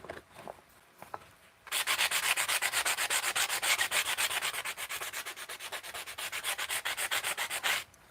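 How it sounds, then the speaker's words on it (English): Rhythmic strokes of sandpaper rubbing along the edge of a piece, a fast, even scratchy back-and-forth close to the mic that runs for about six seconds after a few quiet handling sounds. "I think I'm gonna do the edge with a new piece of sandpaper because that sandpaper has so much sand"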